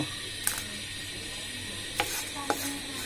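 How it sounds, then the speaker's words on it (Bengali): Dry red chillies sizzle steadily while roasting in a hot frying pan, with a few sharp clinks and scrapes as they are stirred, close and fairly loud. "এবার আমি সবার প্রথমে শুকনা মরিচগুলো টেলে নিব"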